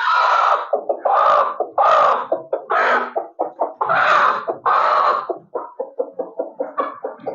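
An Aseel hen settled onto a clutch of eggs clucks repeatedly up close, loud bursts of broody cackling that break into rapid, choppy clucks, with no talk over it.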